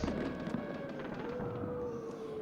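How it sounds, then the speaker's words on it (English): Fireworks going off downtown during a street celebration in Los Angeles: a dense, continuous roar of booms and crackles, loud and sustained, with a faint steady tone running underneath. "she, of course, was being rocked by loud booms of fireworks going off there as well"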